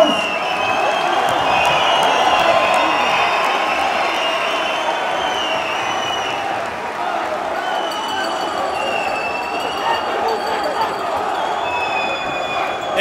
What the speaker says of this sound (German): euer Applaus ist das legale Doping für die Kämpfer